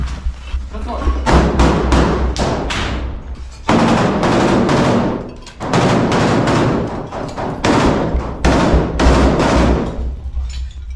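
Close combat as Ukrainian Azov Brigade troops storm Russian positions, with loud bursts of automatic rifle fire in rapid volleys separated by brief pauses.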